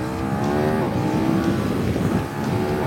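KTM 1290 Superduke R motorcycle accelerating hard, its engine note climbing steadily in a loud, sustained roar heard up close without voices.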